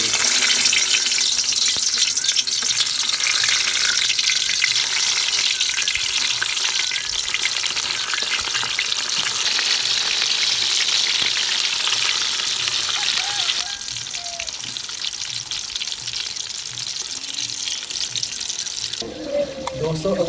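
Stuffed bitter gourds (karela) frying in a kadai, giving a steady, close hiss and crackle of hot oil that runs throughout, easing slightly toward the end with a few soft stirring clinks.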